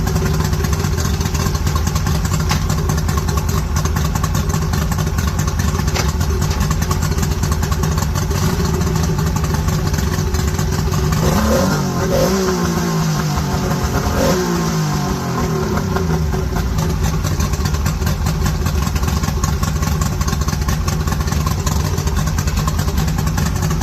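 A Mercury 50HP outboard motor runs steadily and loudly throughout, with a brief rise and fall in revs partway through before settling back to its even drone, no voices.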